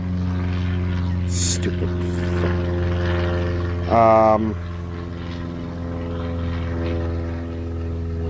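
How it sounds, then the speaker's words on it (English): A propeller airplane drones steadily overhead, loud and continuous throughout. A short spoken exclamation and a brief clatter cut in midway. "The airplane is making my brain melt."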